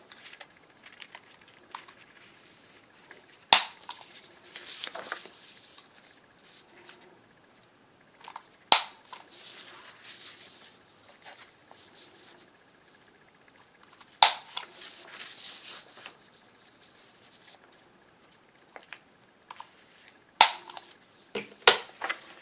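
Paper corners being rounded off with a corner punch, several sharp isolated clunks spaced a few seconds apart with quieter paper handling in between, close and fairly crisp.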